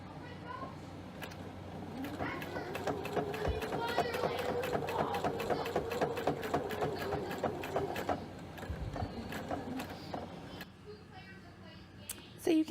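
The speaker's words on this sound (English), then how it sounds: "We are now going to sew 1/8 of an inch from our seam, from the top of the placket to the bottom of the placket" Sewing machine stitching a shirt placket an eighth of an inch from the seam, giving a steady, close mechanical whir with rapid rhythmic clicking that runs for about ten seconds before slowing and stopping.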